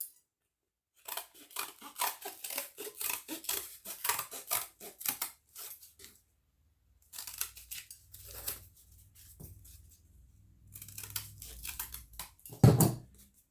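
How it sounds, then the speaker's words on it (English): Scissors snip steadily through a traced pattern piece for a homemade Fortnite loot llama, close and crisp in quick clustered runs separated by short pauses, with a low thump near the end. "And then cut that part out."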